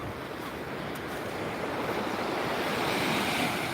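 Calm morning ocean surf washes steadily onto a beach, a continuous broad hiss of gentle waves with some wind noise on the microphone and no voices.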